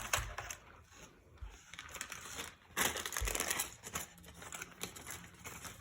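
A plastic bag holding drone accessories crinkles and rustles close up in irregular bursts, fairly quiet, with no talking.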